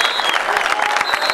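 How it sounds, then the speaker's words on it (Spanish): Crowd at a fishing contest prize ceremony in Tres Arroyos applauding a trophy winner, a steady dense wash of clapping at moderate loudness with a little cheering, no other sounds standing out. "gente la aplaude"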